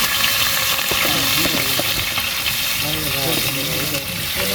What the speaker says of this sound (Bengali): তেল দেওয়া হচ্ছে এখন।